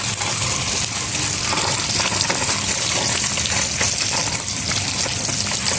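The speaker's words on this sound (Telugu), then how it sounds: "ఇలా సెట్ చేసుకున్నామంటే వేస్ట్ వాటర్ అంతా ఇలా వస్తాయి అన్నమాట" Waste water from a tank gushing out through a pipe into a garden, a loud, steady hiss and splash that flows without pause.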